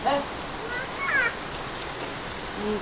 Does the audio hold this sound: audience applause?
no